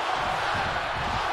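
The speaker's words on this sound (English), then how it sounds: "What a raucous crowd here tonight." A wrestling arena crowd in WWE 2K23 at WrestleMania 39 roars and cheers in a dense, steady wash of noise, loud and continuous, with a faint voice mixed in.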